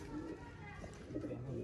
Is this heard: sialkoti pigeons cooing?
yes